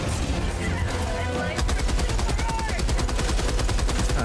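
Rapid automatic turret gunfire in the video game Helldivers 2, loud, close and continuous, a fast steady stream of shots that takes over after a dense noisy opening and keeps firing to the end.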